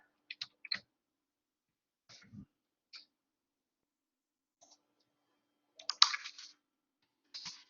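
Sparse, quiet computer mouse clicks on a Windows 10 PC, heard as a few isolated pairs of sharp ticks and one short flurry of clicks spread across a silent background, with no talking.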